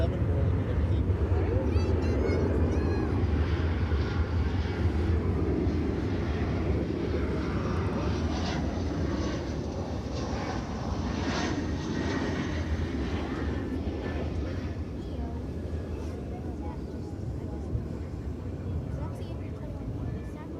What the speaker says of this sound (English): I see an American triple coming in from London